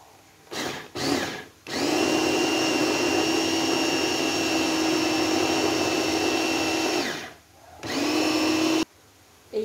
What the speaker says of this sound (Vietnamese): Rồi bây giờ mình bắt đầu mình xay thôi.